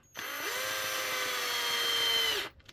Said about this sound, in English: I just run them down snug with the driver